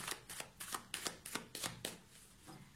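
Tarot cards being shuffled by hand, a quiet close rhythmic series of about eight riffling bursts at a steady pace, alone without talk.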